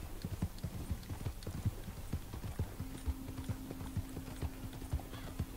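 Red Dead Redemption 2 horse hooves clip-clop at a quick, even trotting rhythm, fairly close, over a low continuous hum.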